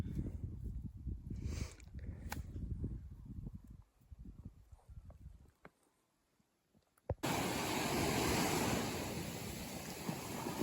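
Ocean waves on a remote Alaska coastal beach near a wilderness village site, with a muffled rumbling wash and gusty wind on the microphone, dropping nearly silent before a loud, steady roar of surf takes over.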